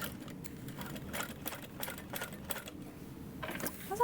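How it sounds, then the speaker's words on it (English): A sewing machine stitches around all four sides of a tote bag in a quiet room, its needle making a soft, steady rapid clatter with brief pauses and small clicks. "And then we'll sew around all 4 sides,"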